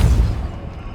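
A Depulso spell from Hogwarts Legacy on PS5 lands as a single deep, loud boom up close, its low rumble decaying quickly into quiet.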